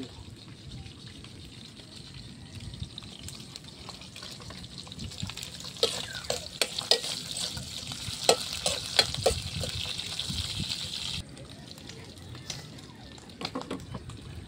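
Liver being stir-fried in a pan, a low sizzle and bubbling over the whole stretch with a brighter burst of frying in the middle and sharp clicks of stirring, close up, with no speech.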